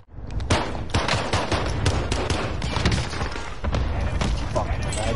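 Rapid bursts of video game gunfire crackle in dense volleys, loud and continuous with sharp repeated shots and thuds, while a player talks over the action.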